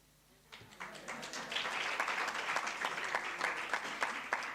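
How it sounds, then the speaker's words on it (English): Audience applause at a research seminar on the SDGs and Agenda 2063, starting abruptly after a quiet moment and building into a steady, moderately loud stretch of many hands clapping with distinct sharp claps throughout. "I thought you'll clap."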